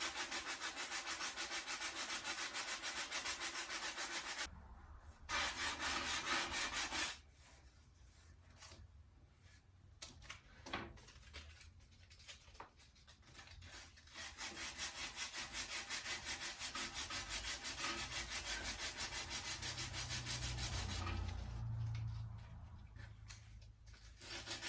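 Sandpaper rubs steadily over a wooden steering wheel during restoration, a loud continuous rasping with two brief pauses and a quieter, patchier stretch in the middle.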